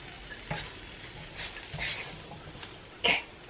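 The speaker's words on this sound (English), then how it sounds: "just a little more sesame oil just to help get that frying" Food frying in sesame oil in a pan crackles and sizzles softly in short bursts, with a few louder pops and stirring scrapes, fairly quiet and close.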